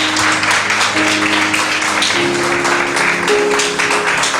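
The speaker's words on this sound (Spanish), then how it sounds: "Dale un aplauso al Señor en esta mañana." A Spanish-speaking church congregation claps for the Lord during a morning worship service. Steady, fairly loud applause runs the whole way over sustained keyboard chords that shift pitch partway through.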